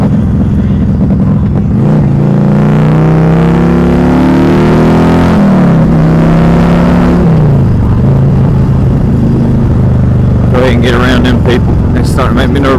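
A motorcycle engine drones steadily while riding, recorded on a Sena Prism Tube helmet mic, its pitch rising and falling with the throttle, mixed with loud rushing wind.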